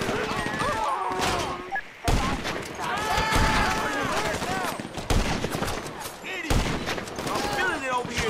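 Sniper rifle fire in the video game GTA V, sharp cracks breaking out repeatedly across a busy mix of game noise, with voices talking over much of it.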